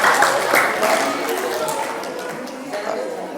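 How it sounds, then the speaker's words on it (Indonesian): A group of altar servers and retreat participants at a cathedral retreat in Palasari, Denpasar, claps and applauds. The dense, continuous clapping fades slightly toward the end, with voices mixed in. "Tepuk tangan untuk mereka."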